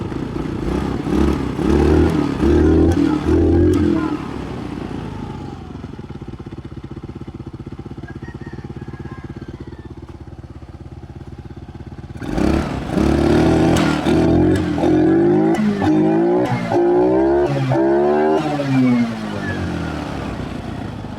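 A Euro K Blade 125 motorcycle engine revs hard in two bursts, loud rising and falling throttle blips separated by a stretch of steady idling, close up and alone.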